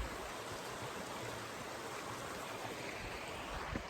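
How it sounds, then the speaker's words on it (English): Big river rushing alongside the Appalachian Trail, a steady broadband roar of flowing water that stays constant and fairly close throughout, with no voices. "I'm actually paralleling this beautiful little river that you can hear"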